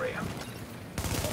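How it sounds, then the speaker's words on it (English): Gunfire in a video game as enemies shoot at the player, a dense burst of shots rising louder near the end, mixed with game noise. "They're shooting at me."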